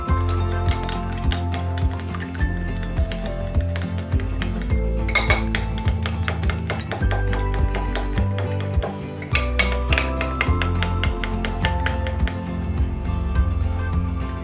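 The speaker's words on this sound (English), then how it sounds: "I'm going to add the yeast to it. So I'm just going to stir this." A spoon stirs yeast into warm milk in a bowl, a continuous, close run of clinking and scraping metal against the dish with rhythmic taps and a few louder knocks. No voices are heard.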